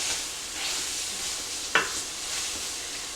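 Ground beef sizzling steadily as it browns in a pan, a close, continuous hiss of frying with one brief scrape of a stirring utensil partway through, no voices.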